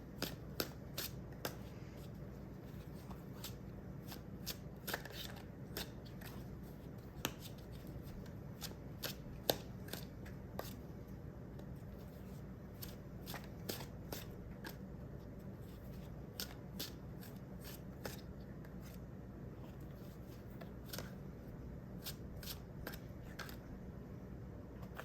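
Tarot cards are shuffled by hand for an advice card, giving a long, soft, steady run of riffling and flicking card sounds with occasional sharper snaps, close and quiet with no talking.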